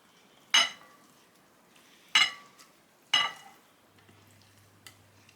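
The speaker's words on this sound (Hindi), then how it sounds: "अब आलू में सारे मसाले वगैरह मिक्स कर लेते हैं।" A utensil works spices into boiled potatoes for aloo chapli kabab, making three sharp scraping clinks against the bowl at roughly one-second gaps, then falling quiet apart from a faint tap.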